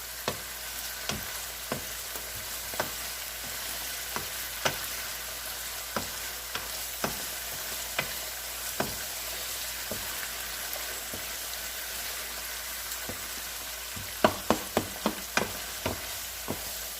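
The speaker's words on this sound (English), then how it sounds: "just keep stirring and let it fry up and evaporate" Lamb mince fries in its own fat in a pan with a steady hiss, regular sharp taps of a spoon stirring against the pan every second or so, and a quick cluster of knocks near the end.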